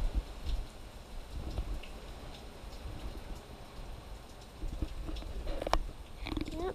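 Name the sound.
rain during Hurricane Irma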